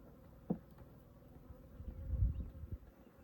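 Low droning buzz of Africanized honey bees from a removal, swelling louder toward the end, with a few soft knocks and handling sounds nearby; no talking.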